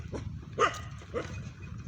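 A dog barks at a monk a couple of times, a short sharp bark followed by a softer one, over steady low background noise.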